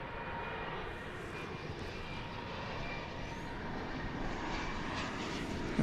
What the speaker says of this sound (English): Possible KC-130 arriving here.